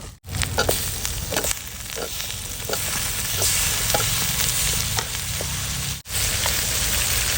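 Chopped tomatoes frying in a hot pan while a fish curry is being cooked, a steady loud sizzle with crackling pops and occasional scraping stirs, briefly cut off twice.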